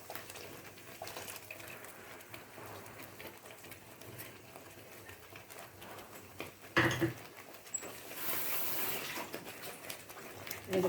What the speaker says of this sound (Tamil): சொன்ன மாதிரி தான் தண்ணி வேணும். அந்த பட்டாணி தண்ணியே எடுத்துக்கோங்க